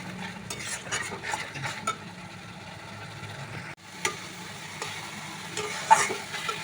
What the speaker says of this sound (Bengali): ভালো করে একটু মশলাটা কষতে হবে যাতে মশলার গন্ধ না থাকে